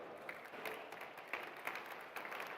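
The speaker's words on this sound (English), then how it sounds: "Please give me a loud round of applause for Jill Warren." An audience at a EUROBIKE 2024 industry panel applauds a moderator from the European Cyclists Federation, a steady, moderately distant wash of many hands clapping that holds for the whole stretch.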